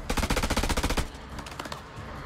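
Rapid automatic gunfire from the video game House of Ashes, a fast evenly spaced burst of loud close shots that stops abruptly after about a second, followed by quieter scattered game sounds.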